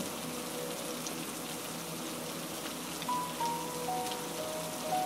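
Steady rain patters on a surface as a soft, even wash of sound for a relaxation meditation, with faint sustained musical tones rising above it toward the end.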